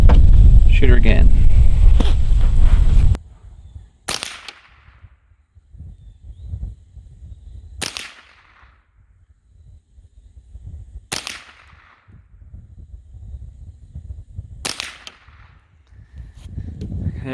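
Four sharp rifle shots from a rifle fitted with a Feyachi Falcon 3-9x40mm scope ring out at steady intervals of about three to four seconds, each with a short fading tail, after a loud opening burst of wind or handling noise.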